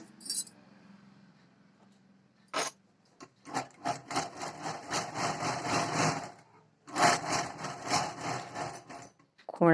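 A sewing machine whirs in steady bursts, a few seconds of fast stitching along a canvas edge, a pause, then another run, with small clicks and handling noises between.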